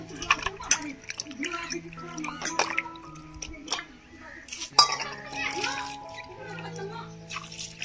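Raw chicken meat is rinsed clean with water in a village kitchen, with dripping and splashing broken by light clinks of a metal pot, while voices, including a child's, talk intermittently in the background.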